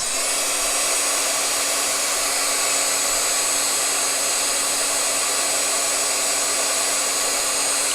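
Heat embossing gun blowing a steady, loud airy roar as it melts embossing powder, constant and unbroken throughout with no talking.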